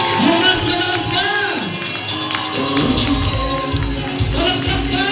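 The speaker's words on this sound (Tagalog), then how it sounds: "Bigyan po natin si Gamang palakpakan" Wedding guests at a Filipino reception cheer, whoop and clap for the newlyweds. A lively crowd roar runs steadily throughout, with shouts rising above it and voices calling out amid the noise.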